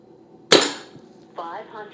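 An SMK Victory CP2 .177 PCP air rifle fires a single sharp, close crack that decays quickly, and a short burst of voice follows.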